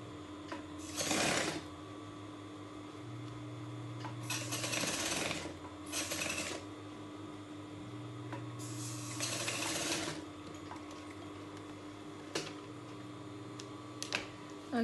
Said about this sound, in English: So I'm just quickly sewing it to the band.